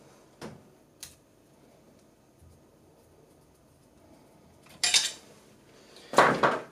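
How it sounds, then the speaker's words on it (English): Small metal clicks and clinks as a nut and screw clamping the aluminium X gantry of a 3D printer are loosened, two light taps early on, then louder rattling clatters later, nearby and with no speech. "I'll just simply loosen the nut and screw, clamping the aluminium to the XY joiners."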